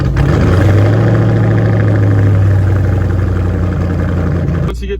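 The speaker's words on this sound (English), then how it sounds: "turn the vehicle on" A vehicle engine runs at a steady, loud idle right after being switched on, a constant low drone that holds for several seconds before cutting off abruptly near the end.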